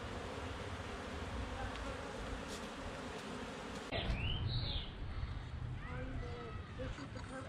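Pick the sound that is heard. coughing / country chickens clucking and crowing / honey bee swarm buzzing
honey bee swarm buzzing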